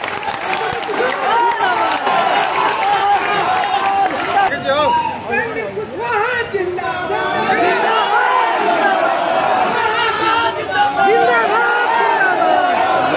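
A large crowd at a political rally chants and cheers loudly and continuously, a dense roar of many voices with rhythmic shouting and occasional whoops, close and unbroken for the whole stretch.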